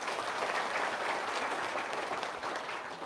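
An audience claps together in steady, dense applause for a few seconds during a talk, the sound even and fairly full throughout, with no voices over it.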